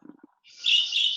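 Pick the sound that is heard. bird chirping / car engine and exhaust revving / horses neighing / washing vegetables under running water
bird chirping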